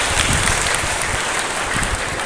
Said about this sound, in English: Let's give them all also a big round of applause.